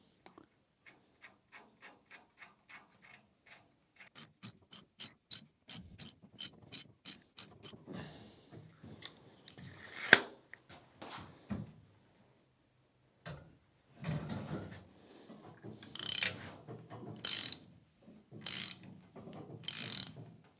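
A hand ratchet tightening a nut on the leaf springs of a rusty Citroen U23 truck being rebuilt, with a close run of evenly spaced clicks that quicken, then heavier irregular metal clacks and a few spoken words.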